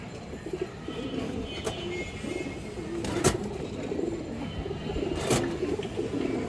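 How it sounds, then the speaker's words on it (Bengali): Pigeons at a farm coo softly in low, rolling phrases, with a few sharp bright clicks or chirps standing out over steady background noise. "একটা খুবই সুন্দর মাদি কবুতর"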